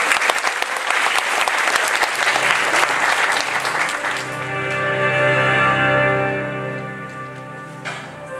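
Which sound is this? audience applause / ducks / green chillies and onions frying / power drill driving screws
audience applause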